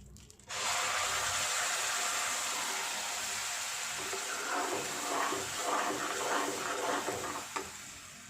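A ground paste for butter paneer hits hot melted butter in a pan, bursting into a loud, steady sizzle that runs for several seconds and crackles more busily toward the end, with no talking.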